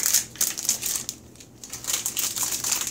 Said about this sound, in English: I just bought these shears today. Might as well give them some use. And I like my spaghetti cut in half.